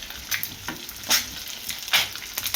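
Eggs fry in a pan while being turned and moved around, giving a soft continuous sizzle with several short scraping bursts at irregular moments.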